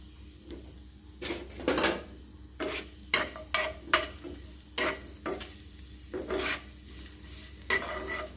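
Food frying in a frying pan with just a little oil, a soft continuous sizzle broken by repeated scraping stirs of a spoon against the pan, close and without speech.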